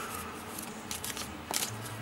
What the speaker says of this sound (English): let me just shuffle the cards a little more.